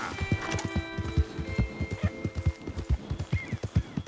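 A horse in the western game Red Dead Redemption 2 trots along, its hooves beating a quick, regular clip-clop close by, with a faint whinny-like tone partway through and no talk.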